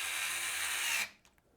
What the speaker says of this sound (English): We'll get them screwed into place using the screws that come with the fans.